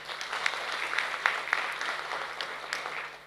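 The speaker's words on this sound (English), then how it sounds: "let me give the applause to Professor Richard" An audience at an international global health symposium applauds, a fairly faint, steady patter of clapping with a few sharper individual claps standing out, heard without speech.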